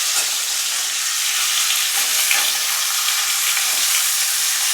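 Mango pieces hitting hot oil already fried with cumin and dried red chili, giving a loud, continuous sizzle and crackle close up, alone without voices.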